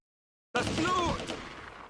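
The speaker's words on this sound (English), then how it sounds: "The mortars use up their remaining ammunition on the Germans in Objective Charlie." Mortar fire in the World War II strategy game Close Combat: A Bridge Too Far, a single sudden muffled blast that starts abruptly and rumbles away over a second or so, with a faint voice mixed in.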